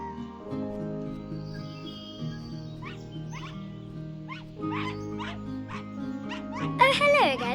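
Short, sharp dog barks and yips from the Into A Dream 2D puzzle adventure game, repeating in a loose rhythm over steady background music, ending in a louder burst of excited yapping.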